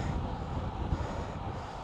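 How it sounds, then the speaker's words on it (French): Steady, heavy roar of headwind buffeting the microphone while cycling, loud and continuous with small gusty surges. "sur ce vent de face là"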